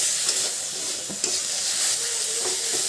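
Mustard greens and tomato frying in a pan in village-style cooking, a close steady sizzle with quiet stirring scrapes, no talking.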